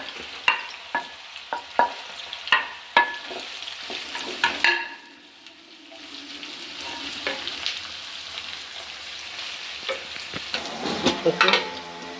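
Sharp spatula scrapes and taps over a sizzling pan as onion, green chili, curry leaves, garlic and ginger sauté for a Chalakudy-style chicken curry, then a steady frying hiss.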